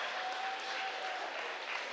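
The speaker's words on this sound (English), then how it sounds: "round of applause" A crowd at a 3D printing event claps briefly, a dense even patter of applause at moderate level with no voices over it.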